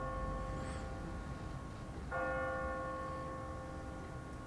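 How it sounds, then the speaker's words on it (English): An automatic church bell on a timer rings out at twenty past the hour, with a steady ringing tone that swells as a fresh strike lands midway and then hangs on, heard alone over a low outdoor hum. "What kind of church bell goes off at 20 past the hour?"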